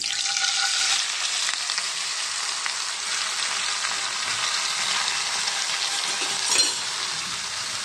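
Amaranth leaves stirred into a garlic, cumin, mustard seed and curry leaf tempering in a pan, giving a steady close hiss of frying with a light clink near the end.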